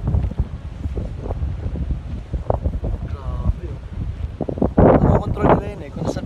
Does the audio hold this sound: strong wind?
yes